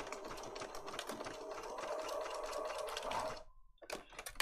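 A sewing machine stitches paper junk journal pages, its fast even rattling hum running steadily and close for about three seconds before stopping abruptly, followed by a brief tone and a few clicks and handling noises.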